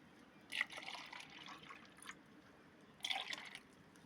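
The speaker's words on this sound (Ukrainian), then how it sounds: "Зараз налиємо ще води." Water poured out for backyard chickens, two short trickling splashes about three seconds apart, faint and close against a quiet outdoor background.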